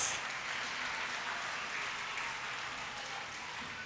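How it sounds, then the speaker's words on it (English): Steady, distant applause from a school audience at a Colours Day celebration, a soft, continuous wash of clapping that holds evenly throughout. "Let us give them a big round of applause."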